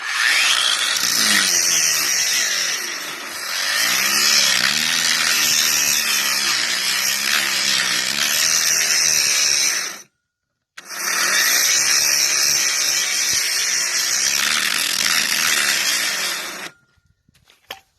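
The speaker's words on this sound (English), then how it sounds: "There's a grinder running off solar panels only." An angle grinder powered by solar panels whines loudly and continuously, cuts out briefly for a moment, then spins back up before shutting off and winding down.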